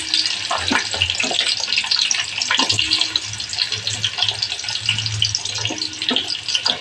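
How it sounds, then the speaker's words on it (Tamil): Chopped onions added to hot oil with fried spices for a mushroom biryani, giving a steady close sizzle and crackle throughout with occasional clinks of stirring, and no voices. "நம்ம வந்து கட் பண்ணி வச்சுருக்கிற ஆனியனை இதில் சேர்க்குறோம்."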